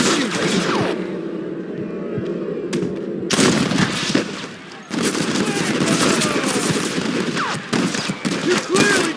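Heavy machine gun fire and scattered gunshots rattle through a shootout in the video game Red Dead Redemption, loud dense bursts with brief lulls and faint voices in the mix.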